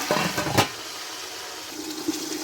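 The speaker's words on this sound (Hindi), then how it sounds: "अब इसमें थोड़ा सा पानी डाल के मैं इनको कवर कर देती हूँ।" Water is poured into a cooking pot of tomatoes for chicken rice, a short splashing gush near the start that gives way to a low, quiet kitchen hum.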